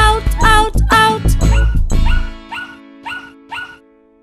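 A puppy barks and yips loudly in a children's song, first a dense burst of yelps and whimpers over music, then three spaced, repeated yips.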